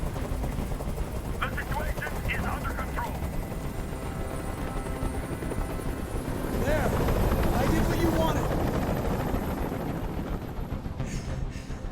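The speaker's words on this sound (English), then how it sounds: "Tell that helicopter to get out of here." A helicopter in the video game Detroit: Become Human drones steadily throughout, a loud continuous rotor rumble that swells partway through, heard under and between other game sounds.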